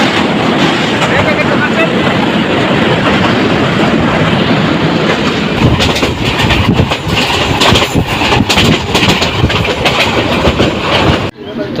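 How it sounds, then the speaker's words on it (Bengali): Local train crossing the Ramnagar rail bridge between Bhairab and Narsingdi, a continuous loud rumble with rhythmic clattering of wheels over the span that grows busier toward the end. "তো ট্রেনটি এখন রামনগর রেল সেতু অতিক্রম করে যাবে"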